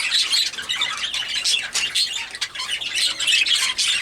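Breeding birds in a divided cage exchange continuous squawks and chirps at close range, calling back and forth without pause.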